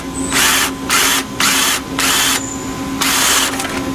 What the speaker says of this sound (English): If you already have a self-tapping screw, just remove the self-tappers with a